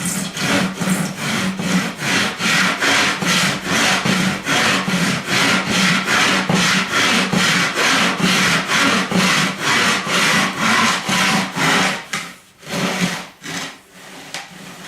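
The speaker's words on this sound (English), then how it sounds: "just slide it back and forward slowly until it cuts through" Hand saw cutting through a wooden drum shell with steady back-and-forth strokes, loud and close, a regular rhythm of roughly two strokes per second that slows and breaks up near the end as the cut finishes.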